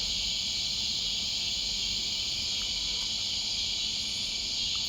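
Narrow-winged tree crickets trill from a distance in a continuous, even, high-pitched drone that never pauses, faint and steady with no voices over it.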